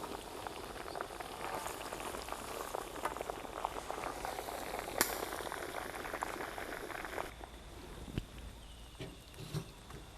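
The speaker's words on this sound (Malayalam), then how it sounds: "ഫുൾ ചിക്കനാണ് നമ്മൾ ഫ്രൈ ആക്കുന്നത്" A whole chicken, Payyoli-style, deep fries in hot oil with a steady, soft bubbling sizzle and scattered pops, quieter crackles toward the end.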